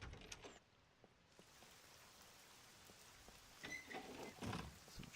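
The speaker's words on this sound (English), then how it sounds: "Now the rain's going to make it harder for me to hear" Steady rain falls in the SCUM video game, a soft continuous patter of drops on surfaces that rises a little toward the end, with a few faint knocks and clatters mixed in.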